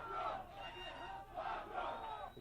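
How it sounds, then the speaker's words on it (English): A crowd at a vale tudo championship fight roars and chants in loud, swelling waves of cheering, dense and sustained across the whole moment. "The fans are cheering their warrior on"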